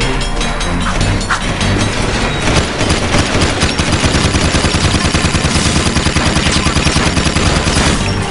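Sustained machine-gun fire in Jak II, loud rapid rhythmic bursts of shots running continuously with a few sharper cracks on top, close and dominant.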